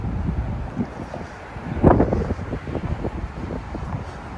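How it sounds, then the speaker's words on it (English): Strong wind buffets the microphone high up on the Benjamin Franklin Bridge in Philadelphia, a loud, gusting low roar that swells and dips throughout, with no talk. "we're up high, so I'm feeling the wind, it's pushing me"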